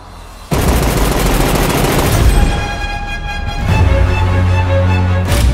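Gunfire from the John Wick 3 trailer comes as a sudden loud burst of rapid shots and heavy booms mixed with dramatic score. It swells and cuts off, then more blasts follow.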